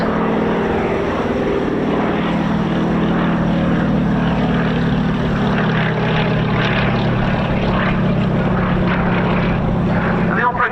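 A Fairey Swordfish propeller biplane flies slowly past at the RAF Cosford Air Show 2025, its engine holding a loud, steady droning hum throughout while a commentator talks over it.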